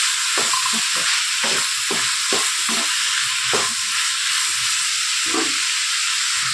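Tomatoes and red chillies sautéing in a pan for spicy tomato chutney give a constant bright sizzling hiss, with soft irregular knocks and scrapes from stirring throughout.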